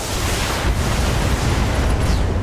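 Mech ammunition explosion in the video game Battletech, a dense, roaring burst of blast noise that fills the whole short span at a loud, steady level without pause.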